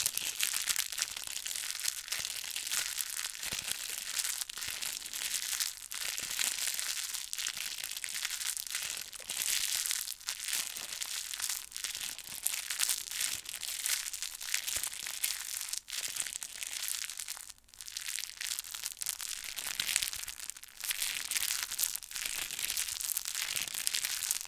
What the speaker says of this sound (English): this crinkling sound